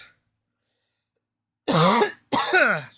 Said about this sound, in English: Can I stop coughing, please?